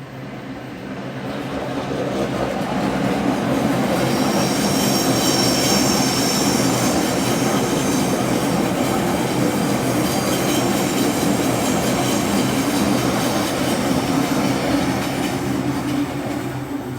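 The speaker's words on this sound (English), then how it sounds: "Let's get some sound of the train line." A train rumbles past steadily and loudly, with metallic rail hum and faint high wheel squeal running throughout.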